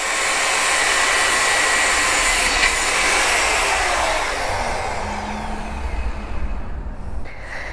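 A power tool cutting a motorcycle chain during a chain and sprocket swap on a Yamaha MT-15, a loud, steady high-pitched whine that runs throughout and eases slightly toward the end.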